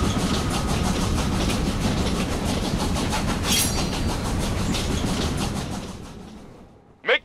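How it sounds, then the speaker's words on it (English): A moving train in the video game Killer Is Dead rumbles with a steady, loud clickety-clack over several seconds, then drops away abruptly into near silence with a brief final blip. "Make your way to the front of the train and kill Tommy!"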